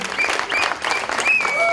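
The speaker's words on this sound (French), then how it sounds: "On peut applaudir pour la dame." Lively audience applause at a French comedy stage show, dense clapping filling the whole moment with a few bright whistles rising above it.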